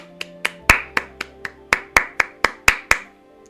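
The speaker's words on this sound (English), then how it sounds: "We should all take a round of applause" About a dozen sharp hand claps in a fairly steady rhythm, close and distinct, each with a short ringing decay, played alone without talk.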